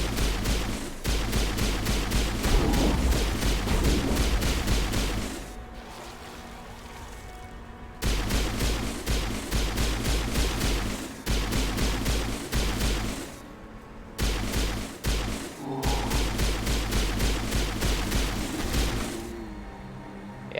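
Sustained bursts of assault rifle and shotgun fire in the Mass Effect video game, rapid repeated shots in long volleys broken by short pauses, loud and dense throughout.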